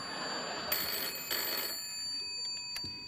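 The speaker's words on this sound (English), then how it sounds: "I like it when Miriam calls you on the phone." A telephone rings in a quiet room, two or three bursts of ringing spread over a few seconds with a soft hiss of room tone between them and no voices.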